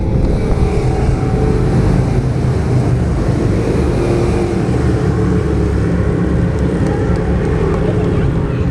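Several 2015 Harley-Davidson Police Special motorcycles with 103 cubic inch V-twin engines, ridden by the OPP Golden Helmets team in a crisscross maneuver, give a loud, close, continuous engine roar that stays steady throughout.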